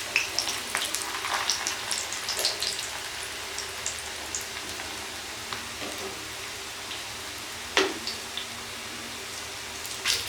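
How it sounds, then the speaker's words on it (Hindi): Chana dal koftas fry in a pan over a low flame, giving a steady, soft crackling sizzle like light rain, with one sharper pop near the end and no talking. "इस तरह बिल्कुल हल्की आंच पे हम इनको पलट पलट के इनको फ्राई कर लेंगे"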